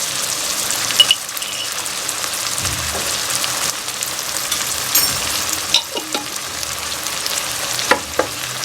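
Tomato masala with whole cumin seeds sizzles in a pan for a kachnar dish, a steady frying hiss broken by several sharper scrapes and knocks from stirring.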